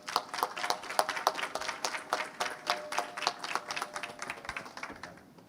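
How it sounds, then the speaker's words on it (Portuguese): An audience at a maritime law congress panel claps in sustained applause, many hands at once, steady and fairly loud before tapering off toward the end. "Uma salva de palmas."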